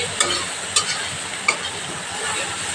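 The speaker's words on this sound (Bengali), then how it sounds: "জল দিয়ে গুলিয়ে নিলে মশলাটা ভাজাও হবে ভালো করে" Spice paste fries in oil for lentil dal with sorghum-free steady sizzling under three sharp spoon taps against the pan, close and fairly loud, no voices.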